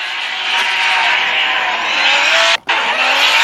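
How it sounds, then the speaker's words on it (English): A BMW drift car slides through a clipping zone during Formula Drift qualifying in Texas, a loud sustained engine roar with tire squeal, briefly cut off by a sharp dip before resuming. "Drags the back end of the BMW into that rear clipping zone"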